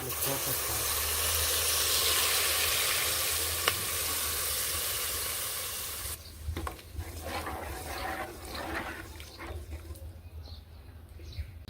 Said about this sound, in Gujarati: હવે અંદર નાખવાનો છે મસાલો. આ વઘાર છે અને કમ્પ્લીટ કરવાનો છે.